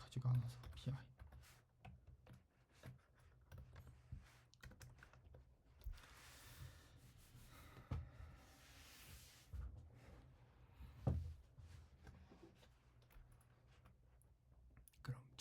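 Irregular bursts of quiet clicking come from a computer keyboard being typed on while Java code is written, with soft speech heard between and over the keystrokes.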